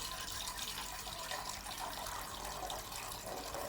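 Water runs steadily from a tap into a big pot for cooking pasta, a continuous splashing rush heard close up with no talking.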